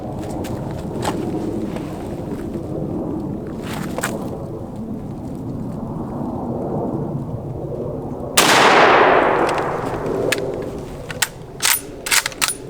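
A rifle firing beast rounds at a target, several loud gunshots, one especially sharp near blast followed by a decaying echo, with a few more shots toward the end.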